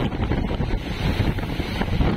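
A motorboat's propeller churns steadily through open water, a loud continuous rush of wash and spray buffeted by gusting wind noise, with no voices.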